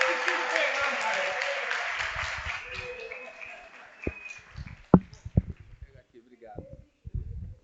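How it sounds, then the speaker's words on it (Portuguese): Applause in a university lecture hall after a song fills the first few seconds and then fades, leaving a few scattered claps and thumps with voices talking. "Aplausos"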